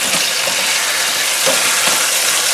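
Chicken sears in a hot pan for French onion chicken, giving a close, steady sizzle and crackle with a few small pops and no talking.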